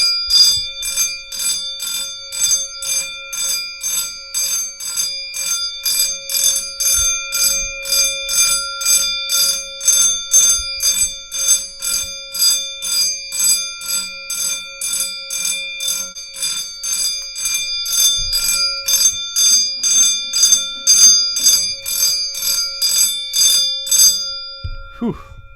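A fire alarm system sounds a jingle bell tone, a rapid, evenly pulsed bright ringing that repeats steadily for over twenty seconds and then stops abruptly.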